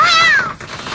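A cat gives one clear, loud meow, close by, whose pitch rises then falls away. A softer rustle follows in the quiet tail.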